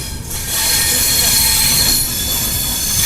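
Loud high-pitched wheel squeal over a rumbling roll as a Nanded–Tirupati special train pulls into Mudkhed junction, the screech starting after a brief lull and holding steady to the end, heard close from on board.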